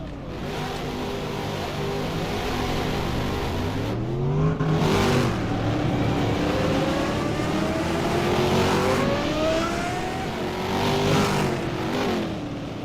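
Race cars in a Tarumã circuit racing game mod rev up and accelerate, several engines rising and falling in pitch as they pull away and pass, loud and continuous.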